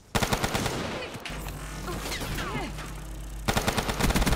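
A video game gun fires in rapid automatic bursts, near and punchy, with a burst at the start, a gap filled by other in-game sounds, then another rattling volley at the end.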